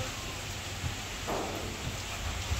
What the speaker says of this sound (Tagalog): At may bagyo.